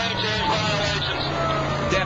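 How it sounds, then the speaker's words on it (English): A stolen BMW speeds down the freeway in a high-speed chase, giving a brief, dense wash of engine and road roar with no clear pauses. "A stolen vehicle rockets down the freeway"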